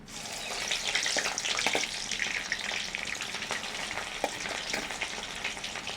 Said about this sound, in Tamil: வெண்டைக்காய் கறிக்கு வந்து நாங்கள் வெங்காயம் பொரிச்சு கொள்ளுவோம்